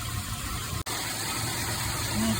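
A car engine idles steadily with a low, even rumble close by, broken once by a brief dropout, with no talk over it.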